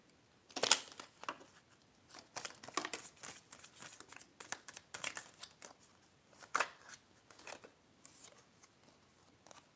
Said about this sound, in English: So let's get a shuffle.